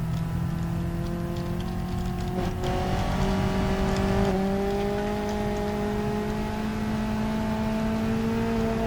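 A car in BeamNG.drive accelerates with nitro, its engine whining in a steady rising tone that climbs through the gears, loud and continuous with no talking.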